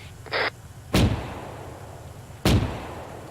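Artillery fire near an armored vehicle crew looking down into a valley: two heavy, booming blasts about a second and a half apart, each trailing off in a rumbling decay, with a brief higher hiss beforehand.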